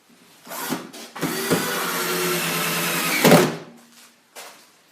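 A power driver sinks a screw into a wooden beehive box body, a close whirring drone of about two seconds between short bursts and a knock as the screw seats, then quieter handling.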